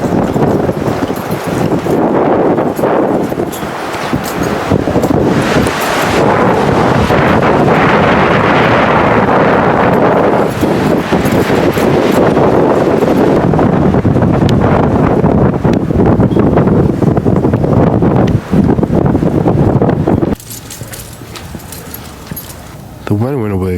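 Strong outdoor wind gusts buffet the microphone at the Stanley Hotel hedge maze, loud and roaring for most of the time with people talking underneath, before the wind briefly drops near the end.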